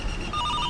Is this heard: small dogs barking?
no